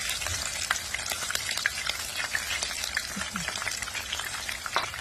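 Food deep-fries in hot oil with a dense, crackling sizzle full of sharp pops and spatters, close and continuous throughout with no talk.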